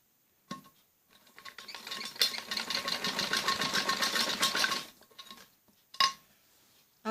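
A sewing machine stitches the curved back neckline of a kameez, running at a fast steady rhythm for roughly four seconds, close and clear, framed by a few sharp clicks and brief handling sounds before and after.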